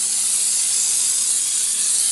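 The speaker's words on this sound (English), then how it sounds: "I'm going to spray this" Cooking spray hisses steadily onto a pan being greased before macaroni and cheese goes in, one continuous close burst of about two seconds with no talking.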